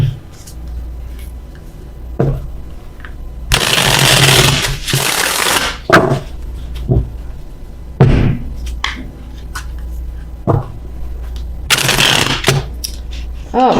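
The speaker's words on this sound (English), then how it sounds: "If I can shuffle." A deck of tarot cards is shuffled in several bursts of crisp riffling and slapping, close and fairly loud, separated by shorter taps and card handling, with quiet talking in between.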